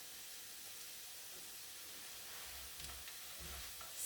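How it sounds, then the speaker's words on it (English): Almonds cooking in a pan with onion and garlic give a faint, steady sizzle and hiss, quiet and continuous, with a few soft low bumps near the end and no voices. "our almonds have been simmering for a while"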